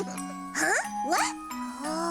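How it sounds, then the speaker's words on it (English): A schoolhouse bell rings in a cartoon: repeated bright chiming tones in a few swelling strokes with rising pitch sweeps, clear and fairly close, with no talking. "That's the bell from the schoolhouse. It's school time."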